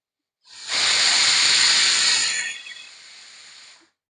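A pressure cooker whistle shrieks loud and steady as steam blasts out while oats khichuri cooks without oil, then the jet weakens and tapers off before cutting out, with no talk.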